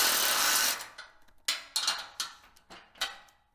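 Metal tools clink and ratchet while M10 bolts and lock nuts come off a Harbor Freight trailer frame with a 16 mm wrench and a 17 mm socket. A sharp burst opens, followed by several close, distinct taps and clicks.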